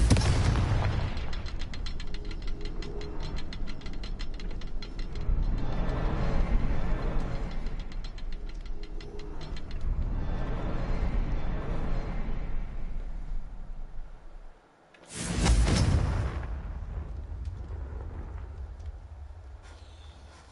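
Confringo blasting spell explosions in Hogwarts Legacy, loud rumbling bursts and crackling roars in waves, dropping to near silence briefly before a sharp renewed blast that trails off.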